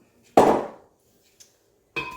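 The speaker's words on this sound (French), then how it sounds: "Je commence par mes flocons d'avoine." Oat flakes tipped into a blender jar land in one loud, rattling pour that fades over about half a second, followed by a faint tap and a second short clatter.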